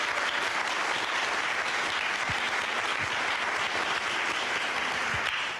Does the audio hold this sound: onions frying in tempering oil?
no